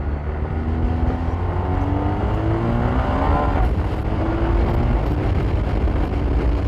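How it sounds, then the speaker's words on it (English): A steady BMW R1250RS motorcycle engine drone with rising and falling revs, loud and close, mixed with rushing wind noise throughout. "as we give it a few revs in a mo."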